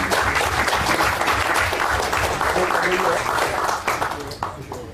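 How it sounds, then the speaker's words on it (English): Audience applause for the speaker Clayton at the Webcamp KL September 2012 tech event, a steady loud round of clapping filling the room, with voices mixed in underneath, easing slightly near the end. "Please give it up for Clayton. Round of applause."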